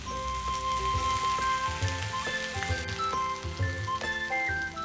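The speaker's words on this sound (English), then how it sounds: "Be generous to apply a good amount to sizzle like this," Okonomiyaki sauce crackles, pops and sizzles on a hot plate, close and continuous, with a background hum and scattered sharp pops.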